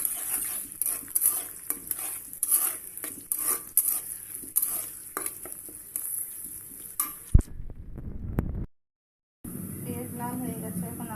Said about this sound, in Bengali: প্রথমে পাত্রে তেল দিয়ে নিচ্ছি। আমি পেঁয়াজ, এলাচ, দারচিনি সব সুন্দর করে ভেজে